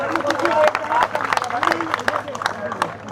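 A crowd at a reservation reform protest in Delhi applauds, with scattered sharp claps and cheering under someone speaking loudly over a microphone.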